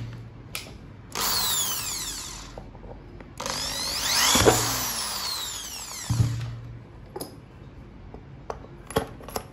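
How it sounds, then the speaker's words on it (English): A power drill with a 7 mm bit whirs in two sustained bursts, biting into a Polo 6R bumper with a rising grind, then stops; a few small clicks and taps follow. "first, you need to drill a hole here"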